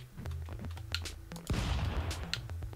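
Gunfire in the stick-figure brawler game Stick Fight: a burst of sharp, clicky shots with a heavier blast near the middle, loud and close.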